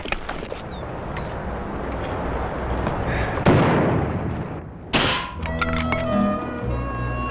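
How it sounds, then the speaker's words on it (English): Rifle gunshots in an old Western scene, a few sharp cracks and thuds over an outdoor rumbling background, with one loud report midway followed by a burst and fading echoes. "Mighty fine shooting, Paul."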